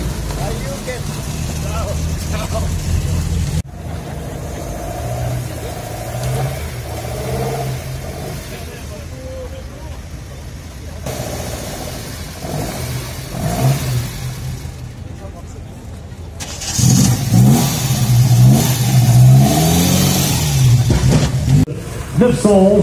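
A Porsche 911 rally car arriving at the Monte Carlo Historic Rally in Monaco, its engine revving loudly in bursts and swelling near the end, with a commentator talking and crowd noise throughout.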